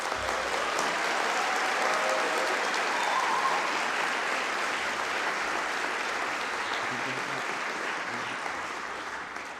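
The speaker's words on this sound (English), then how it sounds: "Let's give all of our graduates a huge round of applause." Graduation ceremony crowd at Melbourne Polytechnic gives graduates a sustained, dense wall of applause, steady and full for nearly ten seconds before easing slightly at the end, heard from within a large hall.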